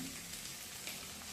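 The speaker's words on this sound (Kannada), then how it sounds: "ಪನ್ನೀರ್ ಇವನ್ನ ಇಷ್ಟೆಲ್ಲ ಫ್ರೈ ಮಾಡ್ಕೊಂಡ್ರಿ" Paneer fries in hot oil for a paneer manchurian, a soft steady sizzle and crackle, faint and continuous with no voices.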